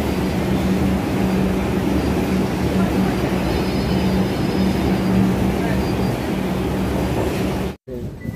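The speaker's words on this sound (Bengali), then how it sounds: "নেমেই দেখো একটা মেট্রো যাচ্ছে" A Kolkata metro train rolls through Maidan station, its steady rumble and wheel noise filling the platform loudly and continuously before cutting off abruptly near the end.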